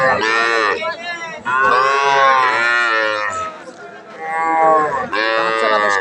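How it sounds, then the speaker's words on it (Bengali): A red Nepali Gir calf at a rural cattle market gives several loud, close, drawn-out moos in quick succession, with faint crowd chatter behind. "নেপালি গির বাচ্চা এটা"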